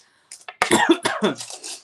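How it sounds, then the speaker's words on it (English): A burst of several harsh coughs in quick succession, close and fairly loud, after a brief moment of quiet. "I'm starting to cough"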